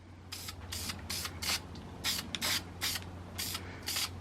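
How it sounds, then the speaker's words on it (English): An aerosol can sprays primer onto car bodywork in short hissing bursts, about nine quick passes with brief pauses between them, near and fairly quiet over a low steady hum. "Now I'm going to spray a little bit of a primer just to cover the small imperfections"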